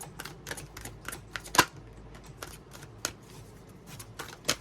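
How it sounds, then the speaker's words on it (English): A wisdom deck of oracle cards being shuffled and drawn, heard as a run of soft riffling flicks and light card taps with one sharper snap partway through, close and quiet with no talking. "let's go into my wisdom deck. Get 3 cards here."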